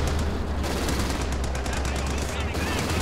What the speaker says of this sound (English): but it's guarded by machine guns